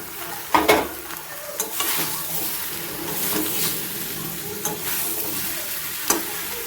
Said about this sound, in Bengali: দেখুন মশলাটা আমি ভালো করে কষে নিয়েছি।